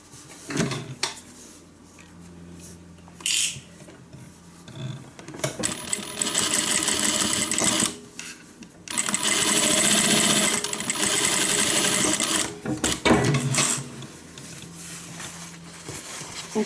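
A sewing machine top stitches both sides of a guitar-shaped handbag, running in loud sustained bursts broken by short pauses and handling clatter, with no talk.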